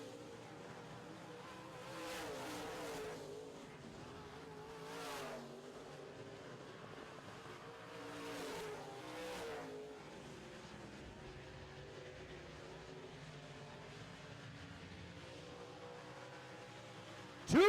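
Modified race cars in a heat race roar around a track at a distance, engines swelling and fading in several passes as they go by, faint and steady under a constant background hum.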